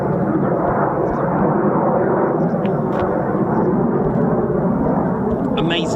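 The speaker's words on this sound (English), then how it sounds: "And here comes a F-15." Single F-15 fighter jet passing RAF Lakenheath, a loud, close, continuous jet roar filling the whole stretch with deep rumble, while a voice talks faintly underneath.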